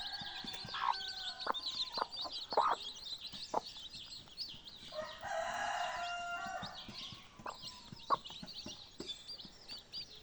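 Chickens cluck and squawk around a yard, with a rooster crowing midway and small birds chirping in the background; no talking.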